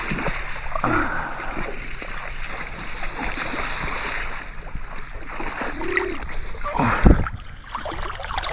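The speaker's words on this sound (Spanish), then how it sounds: "para nadar en las aguas de uno de los grandes ríos de Europa" Swimming and splashing in the Danube river near a fortress in Romania's Dobrogea region, intermittent watery splashes and sloshing over a constant outdoor wash, with one sharp louder splash near the end and no clear speech.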